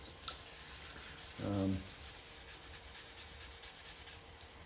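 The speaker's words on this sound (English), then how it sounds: "So basically just keep on sanding until primarily like the black haze is gone." Wet sanding of filler and black guide coat on an Indian Pursuit tour pack fender filler: steady soft rubbing strokes, fairly quiet and continuous, with one brief louder scrub partway through.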